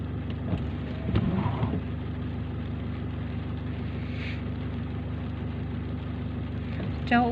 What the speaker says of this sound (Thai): นตกไม่มีที่หลบเลยนะคะนี่